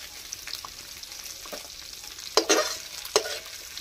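Shrimp fry in a pan with a soft, steady sizzle, broken by a few sharp scraping stirs of a spatula near the end. No one speaks.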